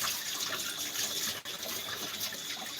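Cold tap water gushes steadily while a blender is washed out, a close, even hiss with one brief dip partway through and no talking.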